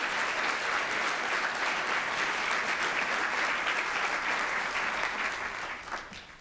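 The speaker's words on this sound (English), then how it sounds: "Please join me in giving them a hearty round of applause" Hearty applause from an awards-gala audience celebrating youth advocates at an anniversary event, dense and steady clapping throughout that fades toward the end.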